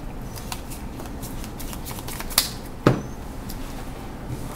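Magic the Gathering cards being shuffled by hand during a Legacy game, a steady soft riffling texture with two brief sharper snaps partway through, close and moderately quiet with no talking.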